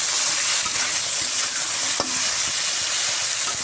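Crabs and a mussel frying in oil give a loud, steady sizzle throughout, with occasional soft stirring scrapes and one brief knock.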